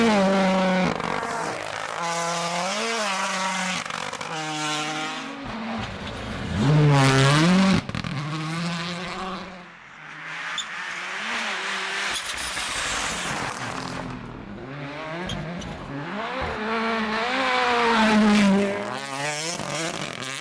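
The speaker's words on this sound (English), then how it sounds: "head up further into the stage to watch Josh put the Puma through its paces" Ford Puma WRC rally car on a snowy stage, engine revving hard and rising through gears with pops as it blasts past nearby, fading and returning loud with sweeping pitch changes.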